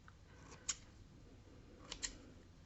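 Two quiet, crisp snips of scissors cutting through a clay pinch pot, one early and a pair of closer cuts later, over faint background hiss.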